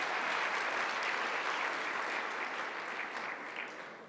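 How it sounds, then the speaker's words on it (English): A graduation audience applauds continuously in a large hall, a broad even patter of many hands that holds steady and then slowly fades toward the end, with no voices on top. "Let's give her a round of applause."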